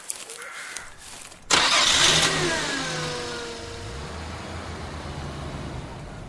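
A car engine cranks and fires after a quiet moment, a sudden loud start that flares up briefly, then settles into a steady idle hum.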